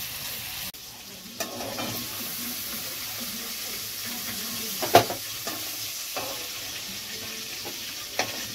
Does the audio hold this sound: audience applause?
no